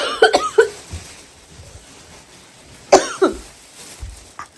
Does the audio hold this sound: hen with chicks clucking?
no